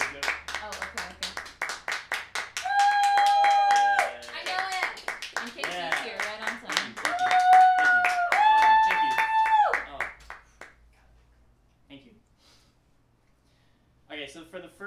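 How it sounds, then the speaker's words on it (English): Scattered hand claps and cheers from a small audience at a senior recital as the performer walks on stage, mixed with lively chatter and laughter, then fading to near quiet before a brief burst at the end. "we're clapping for you to walk on stage"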